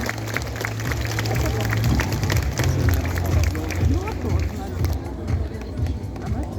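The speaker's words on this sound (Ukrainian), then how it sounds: "Тож дівчат інших кандидаток проводимо оплесками до своїх класів." School audience at a last-bell ceremony clapping as the candidates leave, sustained applause and crowd hubbub over several seconds with voices mixed in, thinning out near the end.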